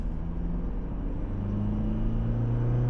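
Toyota Fortuner Leader S engine pulling under acceleration, a steady low rumble heard from inside the cabin, rising gently in pitch over a few seconds.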